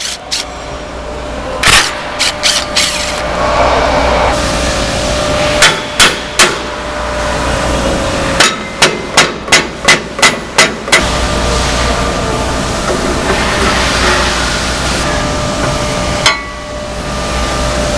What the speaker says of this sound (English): remove the bolts that hold the locking mechanism together